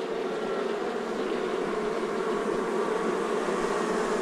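Giant honey bees swarm around a huge wild comb nest being harvested for honey, making a dense, continuous droning buzz that stays steady and fairly loud throughout, with no voices.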